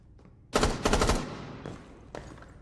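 Gunfire in Rainbow Six Siege inside a large, echoey room: two loud, rapid automatic bursts with a long reverberant tail, followed by fainter scattered shots and softer footstep-like sounds decaying in the space.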